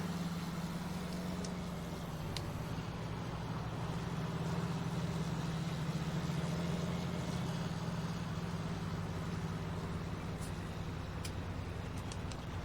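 A tractor in Farming Simulator 19, the same model used on the John Deere, drones with a steady, low engine rumble that runs unbroken and fairly loud, with faint clicks over the top.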